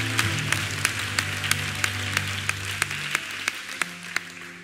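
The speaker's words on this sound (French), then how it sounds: "Tu vas acclamer, acclame comme il faut." A church congregation applauds in a continuous wash of clapping, with sharper rhythmic claps landing at a steady beat over a low sustained musical drone.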